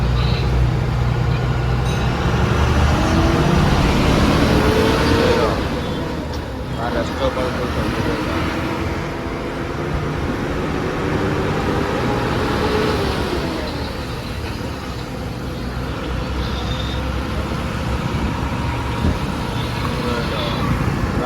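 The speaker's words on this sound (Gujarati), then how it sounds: "traffic jam" A traffic jam on a road after heavy rain: trucks, cars and a tractor give a loud, constant rumble of idling and slowly moving engines close by, with a voice talking over it.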